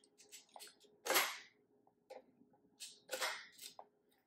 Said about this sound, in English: all you have to do is slide the base on there.